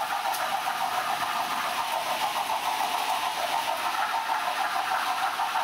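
A steady mechanical rumble and hiss of a model Big Boy steam locomotive running continuously, fairly close, with a constant whirring drone and no voices.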